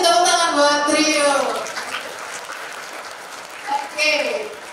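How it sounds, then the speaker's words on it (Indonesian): Audience applause for a young speaker at an Indonesian business talk event, a dense burst of clapping that fades under a host's talk and swells briefly again near the end. "Kasih tepuk tangan buat Ryu."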